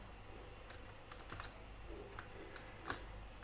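Computer keyboard clattering while code is written, with quiet, irregular keystrokes in short clusters and one slightly sharper press near the end, all faint and without speech.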